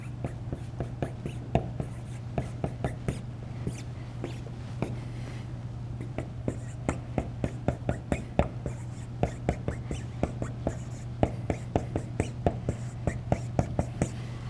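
Pen or marker scratching on a classroom board while a calculus lesson continues, many short rapid strokes and taps in an uneven rhythm over a steady low hum, with faint whispering in the background.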